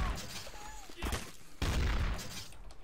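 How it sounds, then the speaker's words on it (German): Gunfire from the video game Trouble in Terrorist Town on the Dust 2 map comes in quick bursts of sharp shots and rattling volleys, close and punchy, with players talking over some of it. "Er schießt auf mich! Ja, ich schieße auf ihn."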